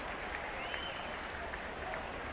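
Rugby crowd at an Asia Rugby Championship away match in Hong Kong roaring and applauding after a try, a dense, steady wash of cheering with scattered whistles, held at an even level throughout.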